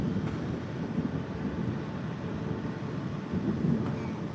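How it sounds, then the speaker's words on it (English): Distant thunder rolls outdoors beside a lake with trees and a fountain under a dull sky, a low continuous rumble with slight swells throughout, no voices. "Thunder."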